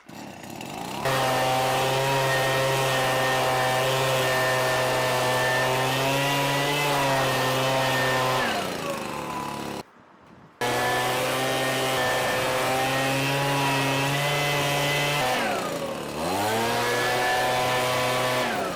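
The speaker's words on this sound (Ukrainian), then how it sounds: "ми спробуємо кожної з повітродувок порухати цеглу" A loud petrol backpack leaf blower engine, a GTM GB 526R, runs steadily at high revs, briefly cuts out near the middle, then restarts and keeps droning with a dip in pitch.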